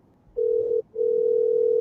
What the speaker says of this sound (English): Come on, answer the phone now.